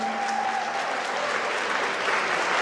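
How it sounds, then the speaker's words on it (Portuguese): Audience at a Brazilian cultural gathering gives a loud, sustained round of applause for Célio Turino, dense steady clapping from many hands that fills the whole moment. "Uma salva de palmas pra Célio Turino."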